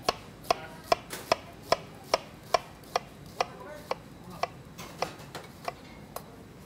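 A knife chopping an onion on a cutting board for mirepoix, steady evenly spaced knocks about twice per second, crisp and close with no talk.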